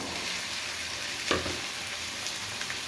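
Vegetables of onion, tomato, peas, potato and cauliflower frying in a pan, a constant dense sizzle with one clear scrape of a spoon midway and faint later stirs.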